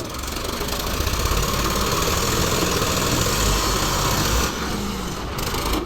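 A Swraj 855 FE tractor engine runs steadily throughout, a loud, continuous low rumble with a rattling knock and no pauses.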